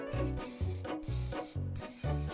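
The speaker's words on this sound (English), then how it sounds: "Now I gotta spray this down." Five short, evenly spaced hissing bursts from an aerosol cooking spray can, close by and fairly loud, with brief pauses between each spray.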